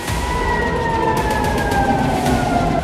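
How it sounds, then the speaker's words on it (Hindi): Air raid sirens in Tel Aviv wail loudly with long rising and falling tones, continuous over a background of low city rumble. "ये इजराइल के तेल अवीव से आई तस्वीरें हैं जहां सायरन गूंज रहे हैं"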